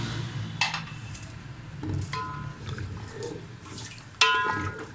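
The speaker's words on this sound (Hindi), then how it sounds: "ये मैंने इसके अंदर पानी ऐड कर दिया है" Water is added to a cooking pot while making biryani pulao, with soft pouring and sloshing broken by a few sharp clinks of metal utensils against the pot, fairly quiet and close.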